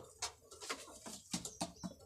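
A male pigeon at a pigeon farm gives soft, faint coos with scattered light rustles and calls nearby, all fairly quiet.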